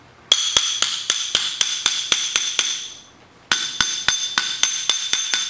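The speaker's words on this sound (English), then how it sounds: "we're going to tap this back into place with those two bolts in there just to kind of keep everything lined up" A ring gear is tapped onto a MINI Cooper S differential with a hammer, giving sharp, ringing metallic strikes at a steady, rapid rhythm, then a brief pause before another even run of close, loud taps.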